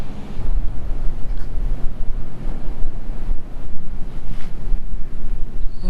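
Waves and wind along Newport Beach, a steady broadband rush of surf with gusty wind buffeting the microphone throughout, loud and continuous with no voices.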